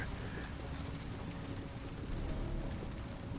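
Steady rain hiss at night in the video game Heavy Rain, a dense, even wash of falling water running continuously at moderate level with no clear voices.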